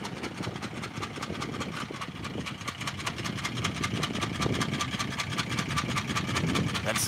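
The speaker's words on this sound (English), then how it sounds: "That's the serpentine belt that broke. You can hear it. It's flip-flopping in the engine." A car engine runs with a fast, regular flapping slap from a broken serpentine belt, steady throughout and fairly close.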